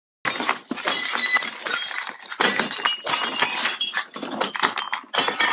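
Police break a house's glass window: a sustained, loud run of shattering and crunching glass with repeated impacts and tinkling shards over several seconds, close by.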